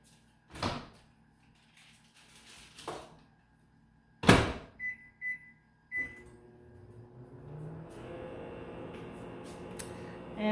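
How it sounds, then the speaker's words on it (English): Microwave oven door opening and closing with a couple of thuds and button beeps, then the oven starting up and running with a steady hum, close by in a kitchen while a blueberry pie is being made. "pop it into the microwave for about 12 seconds"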